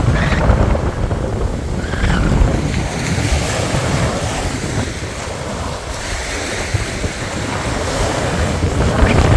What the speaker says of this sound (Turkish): Biraz açık olduğu için de sanıyorum dalgalı oluyor.